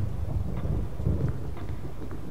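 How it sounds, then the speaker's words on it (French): Thunder from a storm in Resident Evil HD Remaster rumbles low and steadily in the background, with a soft wash of rain and wind over it, fairly faint and without voices. "Alors que l'orage gronde dehors, on vient d'entendre un éclair."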